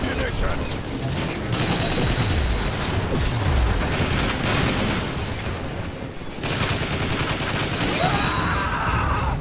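Gunfire from the video game Transformers: War for Cybertron comes as sustained, loud bursts of rapid shots mixed with mechanical clanks and booms, nearly continuous across the stretch.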